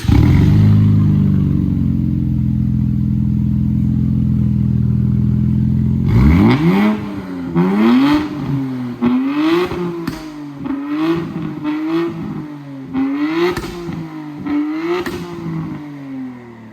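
A 2023 Nissan Z with a Tomei titanium exhaust drones at idle up close, then gets a series of sharp, loud revs, about eight blips in a row.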